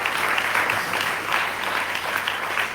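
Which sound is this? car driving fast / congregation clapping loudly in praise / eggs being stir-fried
congregation clapping loudly in praise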